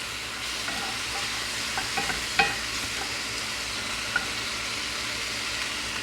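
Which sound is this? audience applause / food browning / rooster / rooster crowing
food browning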